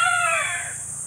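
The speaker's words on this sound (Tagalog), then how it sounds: "Ito, mga manok pa yan, oh. Mga Texas pa yan." A Texas rooster crows in a rural yard. Only the falling final stretch of the crow is caught, loud and close, and it fades out over about a second.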